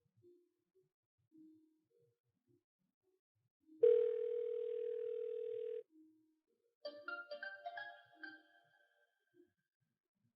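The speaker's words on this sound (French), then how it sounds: "avoir entendu mon téléphone sonner" A telephone rings: a steady, close tone holds for about two seconds, then a brighter melodic ringtone plays a quick run of chirping notes in an otherwise quiet room with no talking.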